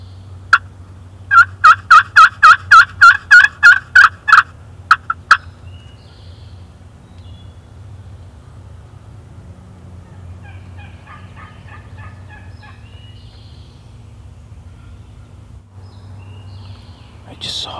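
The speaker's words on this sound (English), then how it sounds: "That gobbler's on the other side of the ridge." A wild turkey gobbler on the far side of a wooded ridge lets out a loud rapid burst of gobbling notes, then falls quiet, followed by softer distant calls against a calm outdoor background.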